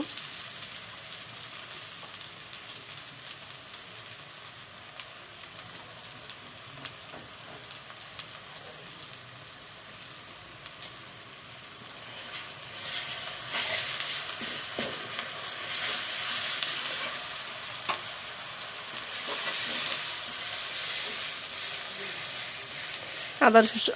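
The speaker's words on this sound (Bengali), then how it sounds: "আদা রসুন বাটা একটু ভেজে নিতে হয়, না হলে মানে কেমন একটা গন্ধ করে, এর জন্য একটু ভেজে নিলাম" Ginger-garlic paste frying in mustard oil over lightly browned onions in a pan. A steady close sizzle grows louder about halfway through, with a few scraping stirs and no talking.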